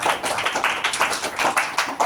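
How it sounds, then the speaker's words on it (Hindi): Audience at a Hindi-language health product gathering claps in a brisk, fairly even rhythm, the many hands sounding close and moderately loud as individual slaps stand out in quick succession. "माँ के लिए भी जबरदस्त ताली लगाइए।"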